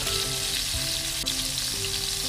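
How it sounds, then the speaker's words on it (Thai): Fish sizzles and fries in hot oil in a wok, a steady loud crackle filling the clip with faint utensil clinks, close up and without speech. "พอเดือดแล้วเราก็นำปลาลงไปนะครับ ก็คือต้องให้กระทะนะครับมันร้อนแล้วก็นำปลาลงไปเลยนะครับ"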